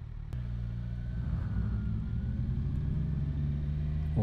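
A Ram pickup truck rumbles nearby on a road in the Netherlands, a deep, steady engine drone that swells louder at the end, with no voices over it.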